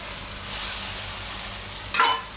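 Tomatoes hit a hot pan of spinach and urad dal with oil and green chillies, giving a steady close sizzle with a brief louder crackling surge as they go in.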